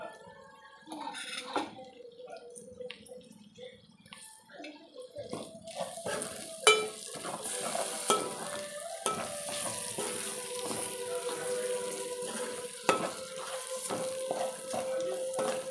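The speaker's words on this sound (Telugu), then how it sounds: "ఇంకా ఆనియన్ కూడా వేసుకుంటున్నానండి. 2 పచ్చిమిర్చి, ఓ టమాటా కూడా వేసాను" Onion, two green chillies and tomato frying in a pan for chicken curry, a steady sizzle that swells after a few seconds, with scraping stirs and occasional clinks throughout and no talking.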